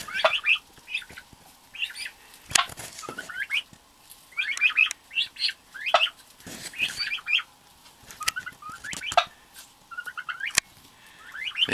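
Baby turkeys chirp and peep near a farmyard water trough on a winter day, with adult turkeys close by. The calls come in short, bright bursts, close and clear, with an occasional sharp squawk or clatter between them.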